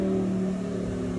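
A supercharged Cadillac CTS-V with an LT4 engine, long tube headers and catless exhaust holds a loud, steady, deep droning rev close by, with no talk over it.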